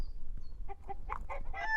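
A hen clucks in a quick run of short, rising calls, close and clear, following a moment of quiet background.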